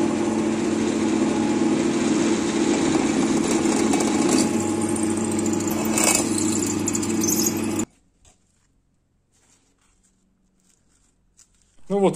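An electric drill bores two 4 mm holes in a homemade trimmer line spool, whining steadily and loudly up close for about eight seconds before cutting off into near silence.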